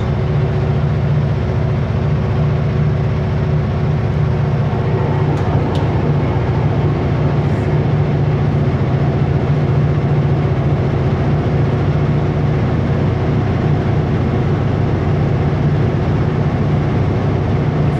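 Super B truck rolling onto a gravel shoulder, a steady loud drone of engine and road rumble heard from the cab, with no talking.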